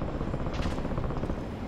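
A steady video game helicopter rotor drone in Call of Duty: Warzone, with a low churning thump, continuous and fairly close, with no talking over it.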